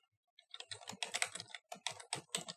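Keys clatter on a computer keyboard in quick, uneven bursts of clicks, close and clear with no talking, as text is typed into an MS Word document.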